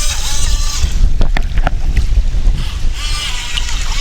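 A Skytech H100 RC racing boat running at full throttle on open water, its motor buzzing continuously with hull slaps and splashes, roughened by steady wind noise on the microphone.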